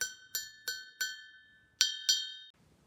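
Lead crystal glass tapped six times, each strike a bright clear ting ringing with a short decay, four evenly spaced then a pause and two louder taps, close and alone before quiet.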